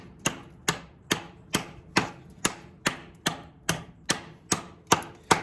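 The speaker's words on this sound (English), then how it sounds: "I'm gonna chop at the door here and see how the handle feels and how good it chops" Cold Steel GI tanto striking a wooden door, about thirteen sharp close chops in a steady, even rhythm, each a crisp woody whack with a short decay.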